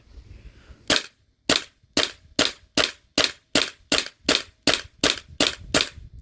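An HPA airsoft rifle with an MWS adapter fires on semi-auto: a steady series of about twelve sharp, loud shots, evenly spaced roughly half a second apart, close up with no voices.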